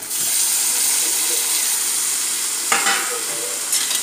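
Tomato tipped into a pan of sizzling ginger and garlic, frying steadily and loudly throughout, with a couple of sharper stirring scrapes and clatters near the end.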